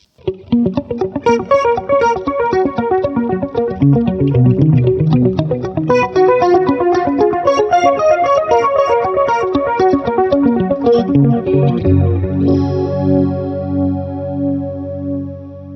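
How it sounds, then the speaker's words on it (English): Electric guitar notes picked in a steady stream with a warm, slightly murky analog bucket-brigade delay repeating behind them, ending on a sustained chord that trails off. "really nice analog delays from the DM2W, super pristine, well not pristine, but analog, bucket brigade style delays"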